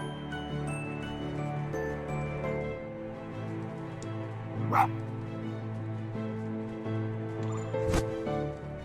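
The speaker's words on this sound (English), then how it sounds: "going to bark a lot." A fox character in the video game Spirit of the North gives a couple of brief bark sounds, one mid-way and one near the end, over a steady musical game background.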